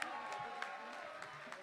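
After a French chanson, an audience keeps clapping in a brief, fairly quiet burst, with individual claps standing out against a soft crowd murmur.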